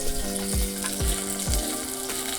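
Steak frying in an electric hot pot, a steady close sizzle with sharp pops of spattering fat and a few low thumps, alone with no talk.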